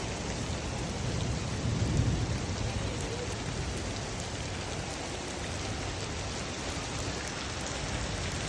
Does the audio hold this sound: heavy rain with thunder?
yes